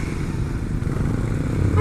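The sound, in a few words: heavy motorcycle and car traffic in Naga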